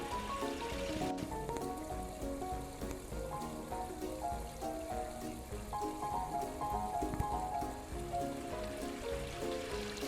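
Water from a backyard garden pond waterfall, kept running through a snowy winter, splashes and trickles in a steady, dense wash that holds level throughout with no voices over it.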